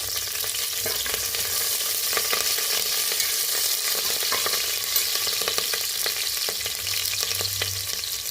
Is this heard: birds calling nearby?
no